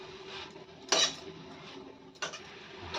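A cabbage and peas vegetable is stirred in an iron wok, with two distinct metallic scrapes and clinks of the spatula against the pan amid a quiet kitchen background.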